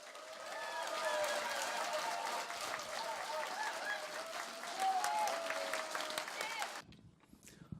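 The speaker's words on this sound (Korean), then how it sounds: "다시 한번 큰 박수 부탁드리겠습니다" An audience at a Korean Democratic Party policy lecture applauds, a broad sustained roar of clapping with crowd noise that swells, holds for several seconds, then cuts off abruptly near the end.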